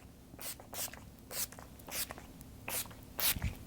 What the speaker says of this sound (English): I'm just gonna mist my face with my makeup setting spray